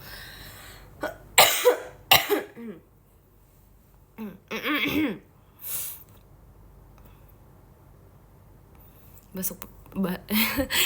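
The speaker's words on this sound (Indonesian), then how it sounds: "batuk besar guys. Iya, batuk." Several harsh, forceful coughs burst out close up in clusters, separated by quiet pauses, with some breathy sounds between.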